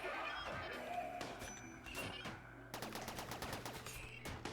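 A mini slugger turret in RimWorld fires rapid bursts of gunfire, with scattered shots at first and then a fast, crackling run of closely spaced rounds near the end, with no talk over it.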